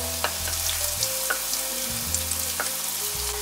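Lentil cakes (dhoka) fry steadily in hot oil, a dense continuous sizzle with a few sharp clicks and taps from a utensil against the pan, close and fairly loud with no voices.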